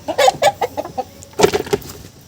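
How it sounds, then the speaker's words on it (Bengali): Domestic country chickens clucking in a farm coop, a series of short, fairly close clucks in two loose bursts, with brief pauses between them and a quieter tail. "এখানে রয়েছে আমাদের দেশি মুরগিগুলো দেখতে পাচ্ছেন"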